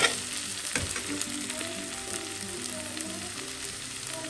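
Prawns and long beans stir-fry in a pan with a steady close sizzle, a single stir knocking early on, while faint musical tones run quietly beneath.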